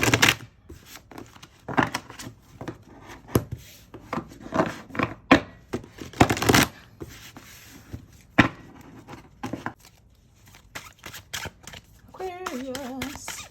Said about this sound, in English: Shuffle the deck properly.